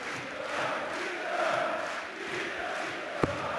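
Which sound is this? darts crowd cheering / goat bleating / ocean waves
darts crowd cheering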